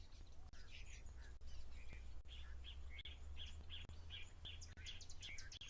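Many small birds chirp and tweet at a waterhole while feeding, a busy chorus of short calls spread across the scene over a steady low rumble of wind or distant noise.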